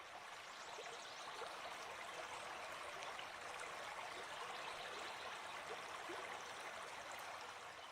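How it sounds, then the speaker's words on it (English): A calm flowing river gives a soft, steady wash of running water with faint trickles, continuous and fairly distant throughout with no voices. "imagine yourself sitting beside a calm, flowing river."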